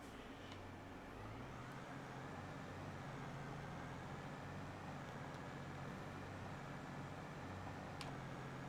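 A tractor in Farming Simulator 22 hauls a grain cart back to the farm, a steady low engine drone running throughout with a constant rumble and no pauses.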